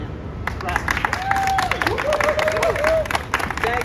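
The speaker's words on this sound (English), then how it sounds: "Thank you for cheering for Albert Foxconn." A crowd claps and cheers at an outdoor press conference against surveillance, with dense applause and a few high whoops, and voices mixed in throughout.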